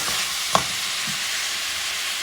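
Elk stew ingredients with smoked paprika stirred in a hot pot, a steady loud sizzle and frying hiss with one sharp spoon clink, close and continuous with no voice.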